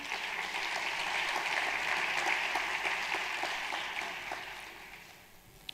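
Audience applause at a closing and award ceremony, a dense sustained wash of many hands clapping that swells and then fades toward the end, heard at moderate distance without talk.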